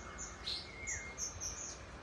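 Small birds chirping in the morning, with high, thin tweets repeating every fraction of a second over a soft, steady background hiss. The calls stay faint and moderately distant, and no one speaks.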